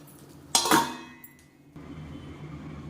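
A metal lid set onto a cooking pot of simmering Thiruvathirai seven-vegetable kootu, giving one close, bright clank with a short rattle, then a quieter tap and low kitchen hum.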